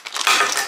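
Small screws spill and clatter onto a hard surface while an affordable walk-in closet is being assembled, a quick burst of close, scattered metallic rattling with no talking.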